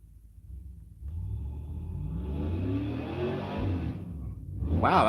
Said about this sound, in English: Wow, that car's loud.